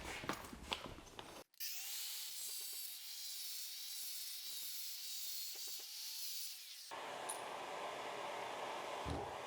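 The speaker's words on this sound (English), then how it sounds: "I'm gonna basically be cutting on this side of the line so that we have" A power tool cuts shower floor tile with a steady high-pitched whine, loud and close, starting abruptly after a short burst of noise and ending with a shift to a rougher hiss.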